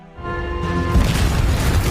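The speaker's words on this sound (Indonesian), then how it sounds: "Saat ledakan terjadi" A tunnel blown up in a film: a tonal hum gives way to a loud, close, rumbling blast that carries on as a sustained roar to the end.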